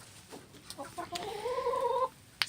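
A gold lace Wyandotte hen clucks softly in a small coop, a few short clucks rising into a drawn-out, wavering call, faint and close with no talking.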